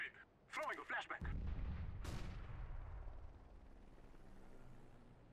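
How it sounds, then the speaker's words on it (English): A flashbang grenade goes off in Counter-Strike: Global Offensive on the dust2 map, a sharp burst followed by a long rumbling, ringing decay, preceded by brief spoken voice chatter. "Throwing a flashbang."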